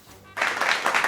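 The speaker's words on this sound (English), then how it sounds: "Can I get a round of applause?" Audience applause at a talk on the Harlem Renaissance, breaking out suddenly after a quiet moment and continuing as dense, steady clapping for the brief remainder.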